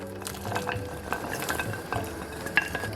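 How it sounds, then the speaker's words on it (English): Soup mix and chopped vegetables dumped and stirred into a pot of Jamaican chicken soup, with repeated soft clatters and scrapes of a spoon against the pot, close and moderately loud, no talking. "I'm also gonna dump in my soup mix, my vegetables,"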